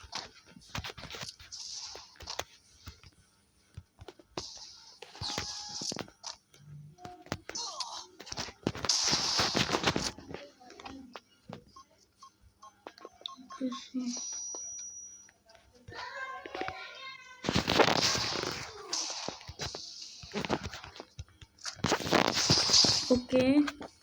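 Gunshots in a shooter video game, with a UMP among the weapons, sound as several sharp, loud bursts spread across the round. A player talks over them almost throughout, and there are quieter clicks and footsteps in the gaps.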